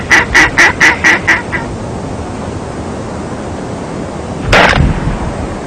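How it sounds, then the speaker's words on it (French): Ducks call from a marsh in a quick run of about six loud, rhythmic honking quacks. Quiet outdoor background follows, then a short rustling burst. "voilà du canard"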